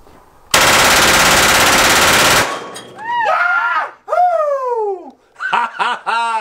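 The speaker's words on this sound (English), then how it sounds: "Six machine guns came in Tuesday morning, and this is really the first time we're shooting them." A newly acquired full-auto machine gun fired at a pumpkin in an outdoor shoot lets out one loud, continuous two-second burst up close, then laughter and giggling follow.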